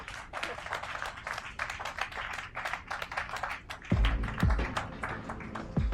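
Guests clapping at a wedding celebration, a lively, busy patter of many hands close by, joined partway through by a heavier rhythmic thumping beat that pulses under the applause.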